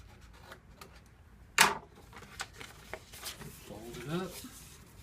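A We R Memory Keepers trim and score board cutting through paper gives one sharp, close slicing snap, surrounded by softer rustles and handling of the paper while a person talks.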